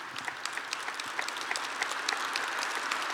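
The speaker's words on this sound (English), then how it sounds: "you can clap" Breakfast audience at a Georgia Chamber event claps steadily, a dense wash of many hands that holds at an even level for the whole stretch with no voices over it.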